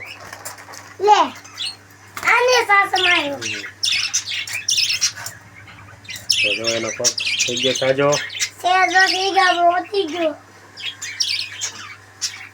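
A pet budgerigar recovering from a leg injury gives repeated sharp squawks and chirps in close bursts, with a person speaking briefly in between near the start.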